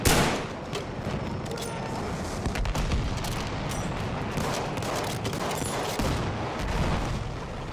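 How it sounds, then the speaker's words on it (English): Sustained machine gun fire in the video game Battlefield 1, loud and continuous bursts with scattered distant explosions throughout the battle. "Enemy machine gun sighted!"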